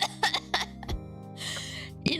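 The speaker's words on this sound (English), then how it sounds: "I just like full laugh coughed in the mic" Several sharp coughs land close on a microphone during a livestream chat, punctuating a short stretch with a brief breathy burst in between and one more cough at the end.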